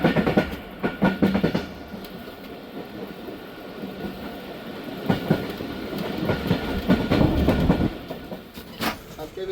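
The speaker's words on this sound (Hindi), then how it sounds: "गाड़ी पहुंच रही है हमारी शुजाबाद रेलवे स्टेशन" The Khyber Mail train pulling into Shujabad railway station, wheels clattering over rail joints in irregular clicks under a steady rumbling engine, close and moderately loud.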